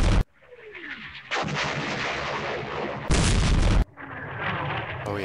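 Artillery shells landing in a West Front war strategy game set during Operation Sealion: several loud, booming impacts and bursts, each with rumbling tails, sounding close and heavy with brief gaps between, and no talking.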